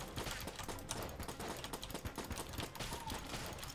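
Rapid, continuous gunfire from a weapon in the twin-stick shooter Enter the Gungeon, a quick rattle of clicky shots in an unbroken stream, fairly quiet and without speech.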